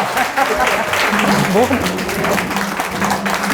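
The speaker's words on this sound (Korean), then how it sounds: "여러분 서서 박수 한번 차." A standing audience at an evening humanities lecture applauds together, a steady dense clapping that fills the room, with voices talking over it throughout.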